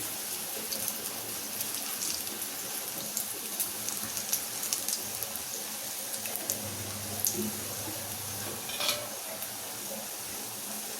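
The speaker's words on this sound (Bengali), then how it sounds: "সাদা তেলে ভাজছে" Onion sizzles steadily in white cooking oil in a pan over raised heat, a soft continuous hiss with occasional light pops and faint clinks, no voices.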